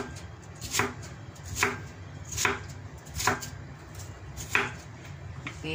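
A knife chops potatoes into small pieces on a board, five or six evenly spaced, crisp thunks about a second apart, close and distinct over a quiet room.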